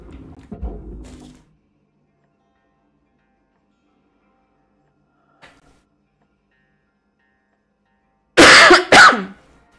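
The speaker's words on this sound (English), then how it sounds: "I'm gonna assume you guys couldn't hear that coughing fit." Two short bursts of harsh coughing near the end, loud and close to the microphone, after a quiet stretch with a brief muffled rustle at the start and a faint tick in the middle.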